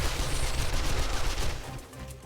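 Submachine gun fire in the zombie survival game 7 Days To Die, a sustained dense burst of rapid shots that stays loud and close before tapering slightly toward the end.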